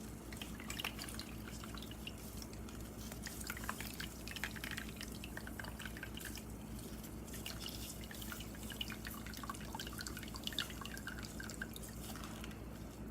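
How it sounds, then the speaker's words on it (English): Apple juice dripping steadily from squeezed apple pulp, a quiet, continuous patter of small drops falling into liquid at close range, with no talking. "Just squeeze all that out. Get all the apple juice you can."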